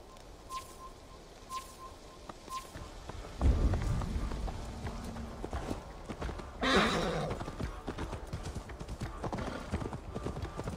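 A horse neighs and its hooves clip-clop in Assassin's Creed Valhalla, with sharp whinnies and louder hoof bursts over faint ambient birdsong.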